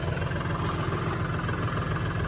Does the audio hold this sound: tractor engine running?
yes